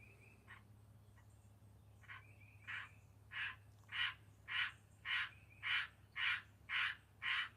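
A frog or bug calling outdoors at night gives a steady run of about a dozen evenly spaced, pulsing croaks that grow louder and more regular, over a low constant hum, with no talking.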